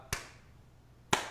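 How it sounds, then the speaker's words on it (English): Two sharp hand claps spaced about a second apart in a quiet room, a deliberately slow clap for a poster winner at a milsim game design debrief, each crisp and isolated with nothing else around them. "Maybe a slow clap."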